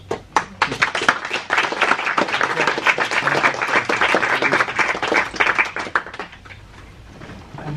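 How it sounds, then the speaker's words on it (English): An audience at a public debate on assisted dying applauds, a dense, sustained round of clapping that holds for several seconds before thinning out toward the end. "So a round of applause,"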